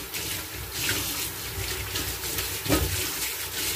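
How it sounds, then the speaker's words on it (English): Lukewarm tap water runs steadily over a metal grill toaster part being rinsed in a sink, a continuous close splashing stream with a brief louder gush near the end. "Let's rinse it with lukewarm water."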